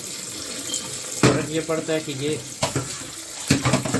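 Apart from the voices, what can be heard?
cold tap water poured onto boiled spaghetti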